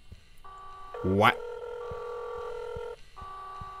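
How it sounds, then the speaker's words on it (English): A phone rings in the video game INFRA, its electronic tone steady and fairly loud, with a brief spoken interjection over it at the start. "Phone call. That friggin' sound scares me every time."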